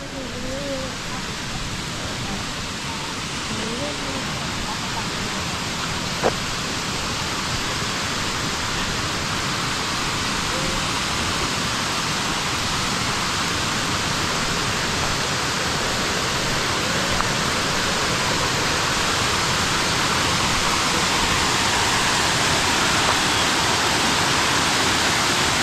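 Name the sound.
Erawan Falls waterfall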